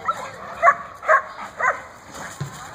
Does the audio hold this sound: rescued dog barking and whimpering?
yes